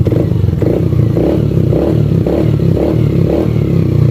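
A Yamaha Aerox scooter engine, recently repaired after a rattling fault, runs close and loud with a smooth, steady idle and slight pulsing rhythm, and no talking is heard over it.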